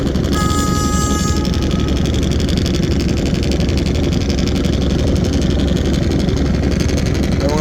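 Sundarban 14, a large passenger launch, pulls away from Sadarghat with its engine droning in a loud, steady rumble that carries through the whole stretch, against a busy riverside background and a brief tonal whine early on.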